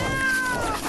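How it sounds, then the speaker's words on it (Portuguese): A hungry kitten meows once, a loud, drawn-out cry heard close up, with no voices. "Acho que encontrei um gatinho faminto."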